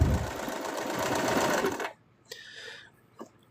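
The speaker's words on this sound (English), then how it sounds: "I'll sew just a little bit further in than I would have." A sewing machine runs steadily while stitching a plush toy, a continuous close, loud whir lasting under two seconds before it stops, followed by a couple of faint handling clicks.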